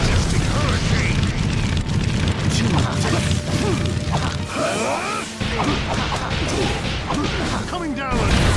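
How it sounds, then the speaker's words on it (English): Fire style majestic hurricane jutsu from Naruto Shippuden Ultimate Ninja Storm 4: a loud, sustained roaring blast with booming crashes and sweeping whooshes, dense and continuous for several seconds, with a voice speaking over it. "Fire style, majestic hurricane"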